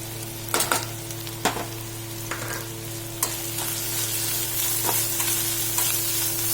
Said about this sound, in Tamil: இஞ்சி பூண்டு பேஸ்ட் போட்டுக்கோங்க பச்சை வாசனை போகிற வரைக்கும் கொஞ்சம் வதக்கிக்கோங்க